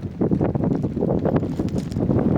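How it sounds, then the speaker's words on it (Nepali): Cold Himalayan wind gusting steadily across an open hillside at Bharsha Daurali, a continuous rushing roar buffeting the microphone, loud and close with no voices. "यता कानबाट छिरेको उता हिमालको चिसो हावा यहाँ नाकबाट सर्र झर्छ"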